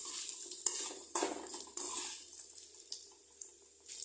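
Flattened rice (chira) frying in hot oil in a pan, a steady soft sizzle with scraping and stirring clatters throughout, fairly close and with no talk.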